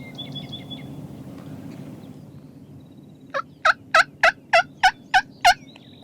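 A wild turkey tom gobbles in an outdoor South Texas field, a burst of about eight rapid, loud, rattling notes, with fainter bird calls earlier over a low wind rumble.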